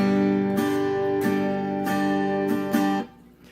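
Chord on an acoustic guitar, strummed cleanly four or five times in an even rhythm, each strum ringing out with clear sustained tones before fading at the end.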